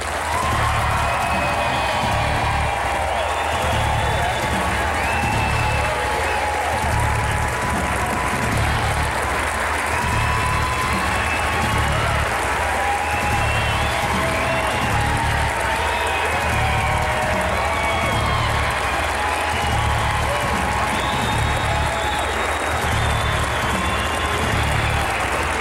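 A large audience at a 2011 Republican presidential debate in Las Vegas, Nevada, applauds and cheers for the candidates, a steady roar of clapping and crowd noise that continues unbroken for the whole stretch.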